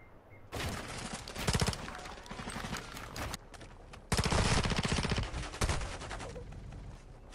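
Bursts of rapid automatic gunfire from the Call of Duty video game, played through a Sims 4 game scene, with loud dense volleys starting and stopping across the clip and no talking.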